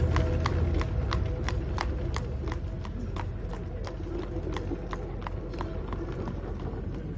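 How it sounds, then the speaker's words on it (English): An Amish horse pulling a buggy clip-clops at a steady, even trot, the hoofbeats sharp and regular over a constant low rumble of road and wheel noise. "when they get 16, we get them a horse and a buggy,"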